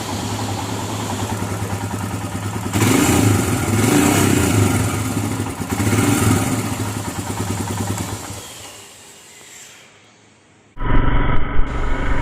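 A Royal Enfield Himalayan BS4 motorcycle runs close by with a thumping single-cylinder idle that swells in a couple of revs, then dies away before a brief loud restart at the end.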